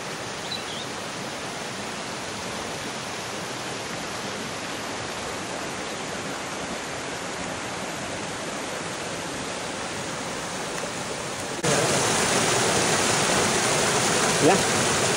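Steady broadband rush of the mountain stream Quebrada La Quinta, a tributary of the Michilote river in the páramo of Agua Blanca near Gachetá, flowing continuously close by, growing louder and brighter near the end.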